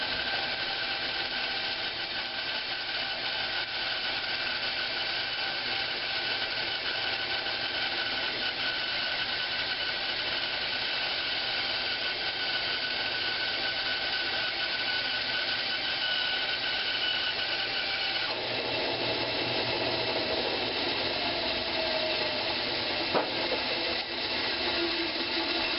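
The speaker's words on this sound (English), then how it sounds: "We're going to go ahead and cut down these 4x4s." A power saw runs steadily as old pine 4x4 posts are cut down, a loud, continuous motor whine with a shift in tone partway through as the blade bites into the wood.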